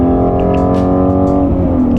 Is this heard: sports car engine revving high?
yes